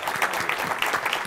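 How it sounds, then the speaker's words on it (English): An audience at a higher-education panel applauds Morehouse College president John Wilson, a steady wash of dense clapping held at an even level for a moment. "Let's give him a round of applause."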